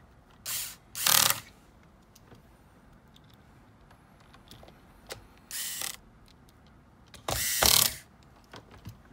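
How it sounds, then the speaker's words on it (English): Screws being driven back into a drone's plastic clamshell with a small ratcheting screwdriver: several short bursts of fine ratchet clicking, near and quiet, separated by pauses with faint tool handling. "You can reinstall the 4 screws that hold the clamshell together."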